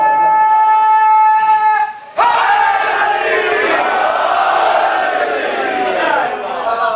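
A crowd at a religious celebration for Imam Zaman's birth roars a slogan in unison, a loud, sustained collective shout that bursts in suddenly after a sustained tone and carries on densely for several seconds.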